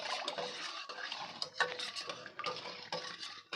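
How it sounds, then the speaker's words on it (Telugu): A spoon stirs tomato rasam in a pot with a steady run of scraping and clinking strokes against the metal, close and fairly quiet. "ఇప్పుడు ఒకసారి కలుపుకొని"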